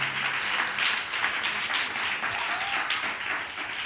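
A church congregation clapping and applauding in acclaim of Jesus during a French-language sermon, a steady wash of many hands at moderate level throughout, with faint voices mixed in.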